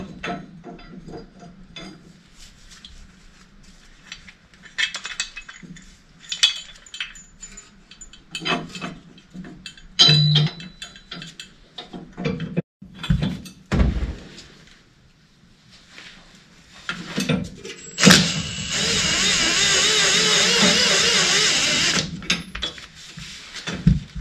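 Metal parts clinking and clicking while a CalTracs saddle is installed on a Silverado: scattered close taps, ratchet clicks and knocks spread through the clip, ending with a sustained hiss-like noise.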